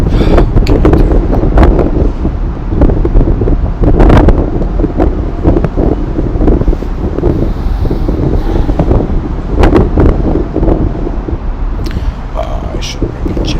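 Gusty outdoor wind buffets the microphone in a continuous broadband rumble, rising and falling through the whole stretch with a few sharper bumps; a person talks intermittently underneath.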